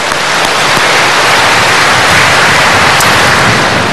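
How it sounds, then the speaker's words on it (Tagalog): Congregation clapping steadily together at a Sunday healing Mass, a dense, even wash of applause filling the whole stretch without any speech. "Dalawang kamay, sabay palakpak sa Panginoon."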